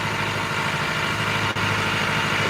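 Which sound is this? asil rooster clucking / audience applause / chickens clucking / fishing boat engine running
fishing boat engine running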